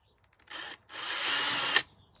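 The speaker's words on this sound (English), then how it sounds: "in these upper corners right here, just drill a hole" A power drill whirs in two bursts while drilling holes in the upper corners of a canvas, a short spin and then a longer steady run that stops abruptly, loud and close.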